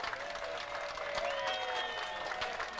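Distant crowd applause with scattered cheers for boats sailing past at a sailing race in Cardiff, a steady soft patter of many hands heard from afar, fairly faint throughout.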